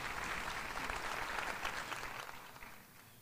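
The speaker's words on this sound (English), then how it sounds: "let's give a special round of applause to Mr. Jordan Moody" Audience at an evening ceremony honouring school support staff breaks into warm, steady applause, a dense clapping crowd that gradually thins and fades toward the end.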